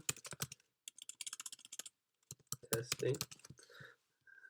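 Fingers type on a computer keyboard to fill in a WordPress contact form on a Raspberry Pi web server, with quick bursts of close keystrokes broken by short pauses.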